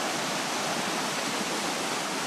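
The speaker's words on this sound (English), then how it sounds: "you can just come down right close to the river." A river rushes close by, a steady broadband wash of flowing water with no breaks, loud and uninterrupted with no voices.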